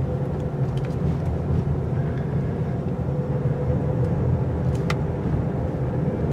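A 2017 Volvo V90 Cross Country T6 AWD wagon drives a tight turning circle on a test track, its engine and road noise forming a continuous, fairly loud hum without talk.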